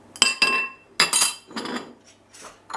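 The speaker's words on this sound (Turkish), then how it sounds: "Yumurtamı kırıyorum köfte harcımın içine." An egg is cracked into a ground-meat meatball mixture with onion and garlic, making a series of sharp close knocks and clinks against a bowl, about five distinct taps in quick irregular succession, with no talking.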